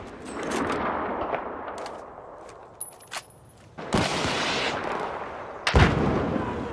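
Enemy machine gun fire in the video game Battlefield 4 keeps up a steady roar of gunfire and battle noise, broken by a quieter gap and then sharp loud bursts near the end.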